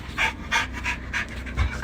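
A dog pants rapidly and agitatedly indoors, short rhythmic breaths repeating in quick bursts, close and fairly quiet with no talking.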